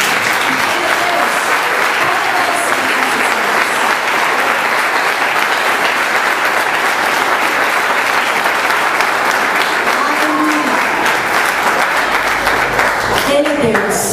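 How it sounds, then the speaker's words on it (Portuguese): Dense, sustained applause from a church congregation fills the space for the whole stretch, steady and loud, with a few voices calling out beneath it and a brief tonal sound near the end. "A este Deus um aplauso."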